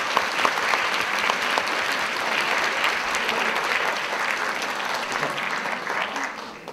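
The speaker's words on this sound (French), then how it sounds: "qu'on peut applaudir très très fort." Long, steady applause from an audience at a cosplay contest, dense and even, easing slightly toward the end.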